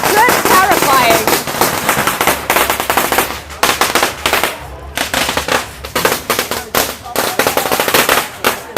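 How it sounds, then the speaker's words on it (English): Firecrackers explode during a Chinese Spring Festival parade, with dense, loud crackling bursts and sharp pops in rapid irregular volleys that continue almost nonstop, and crowd voices mixed underneath. "we have been hearing a lot of firecrackers"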